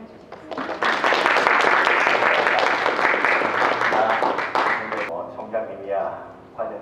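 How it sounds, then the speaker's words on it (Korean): An audience at a talk with an author applauds a guest with a burst of dense, close clapping that holds for several seconds and then thins out into scattered claps. "박상상 작가님 다시 한번 박수로 환영해 주시겠습니다"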